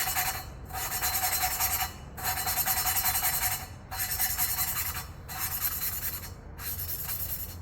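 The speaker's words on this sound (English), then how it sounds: "Hear the sound difference? The grit's started to break down." An engine valve from an RB30 cylinder head being lapped with grinding compound, a close gritty rasping scrub repeated in five even strokes separated by brief pauses.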